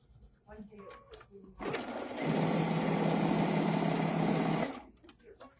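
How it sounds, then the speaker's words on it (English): A sewing machine stitches striped fabric triangle squares for a quilt block in one steady, loud mechanical whirr of about three seconds, with faint talk just before and after. "I'm going to go ahead and sew the triangle squares with the striped fabric as well for the striped block."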